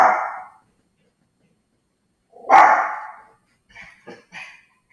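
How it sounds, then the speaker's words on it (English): A dog barks in the background of a home recording, with a short bark at the start, a louder bark a couple of seconds later, then a few small yips near the end. "Apologize for my dog barking in the background there."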